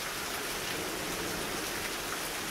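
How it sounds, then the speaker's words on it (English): Heavy thunderstorm rain pours in a dense, constant hiss of drops hitting surfaces, loud and even throughout, with no thunder or voices. "It's raining like crazy, guys."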